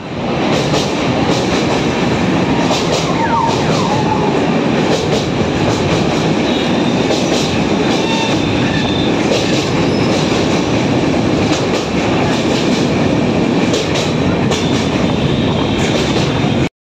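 A train crosses Bally Bridge, travelling loudly and steadily, its heavy continuous rumble broken by faint rhythmic clacks of the wheels, with no voices.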